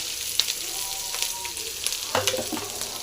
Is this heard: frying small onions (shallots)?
yes